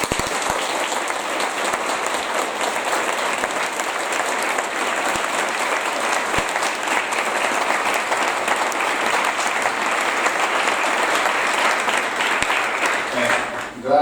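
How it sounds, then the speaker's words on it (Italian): A crowd at a book presentation in Concordia Sagittaria applauds warmly, dense steady clapping sustained for the whole stretch before tapering off at the very end. "ci sentirà sicuramente un grande applauso"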